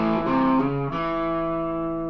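Electric guitar plays a blues shuffle phrase with a triplet hammer-on, a distorted tone sliding through a couple of quick notes before settling into one sustained ringing chord that slowly fades, heard alone and close.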